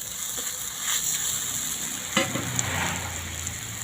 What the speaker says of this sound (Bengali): ভালো করে মশলা আর আলুটা কষে নিচ্ছি, ভালো করে নাড়াচাড়া করে নিচ্ছি মশলা আর আলুটা